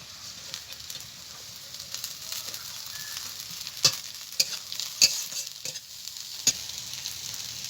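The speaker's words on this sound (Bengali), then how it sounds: "পেঁয়াজটাকে ভাজা হয়ে গেছে এবার দিয়ে দেবো কাঁচা লঙ্কা কুচি আদা কুচি আর রসুন কুচি একসঙ্গে দিয়ে দেবো" Onion frying in a pan with chopped green chilli, ginger and garlic gives a soft steady sizzle, broken by several sharp spoon clicks and stirring scrapes, close and alone.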